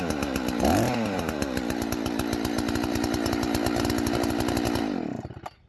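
A Husqvarna 281XP chainsaw, started from cold, fires with a sharp throttle blip and then runs at a fast steady idle for several seconds before cutting out abruptly, loud and close with no talking.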